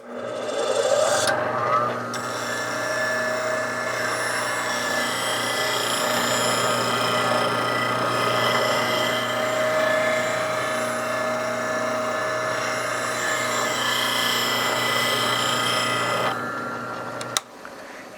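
A woodturning scraper is ground on a CBN wheel, producing a continuous steady rasping hiss with a whirring motor hum. It runs alone for about fifteen seconds, then stops abruptly.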